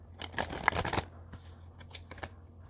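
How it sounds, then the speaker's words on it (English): Playing cards shuffled in a quiet room during a tarot-style reading, a dense burst of riffling flutters followed by a few softer separate flicks, fairly close and alone. "I want to make sure this card is shuffled"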